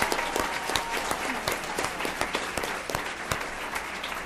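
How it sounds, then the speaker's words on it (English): A ceremony audience applauds the Moore sisters after their singing at a Black History Month event, the dense clapping loud and continuous throughout with a few sharper individual claps standing out. "Give them another round of applause."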